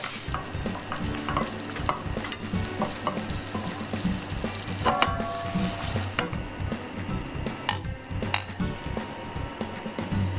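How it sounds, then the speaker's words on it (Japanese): A seasoning sauce poured over corn tsukune frying in a pan, loud continuous sizzling and bubbling close up with occasional clinks and scrapes. "はい、合わせ調味料を全体に回しかけます。"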